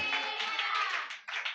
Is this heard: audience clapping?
yes